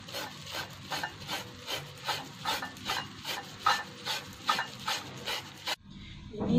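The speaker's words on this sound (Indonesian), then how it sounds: "Jadi kunyitnya ini kita parut agar dia lebih halus dulu." Fresh turmeric root is rubbed over a grater in quick, even back-and-forth strokes for about six seconds, a close, dry scratching rhythm that stops abruptly near the end.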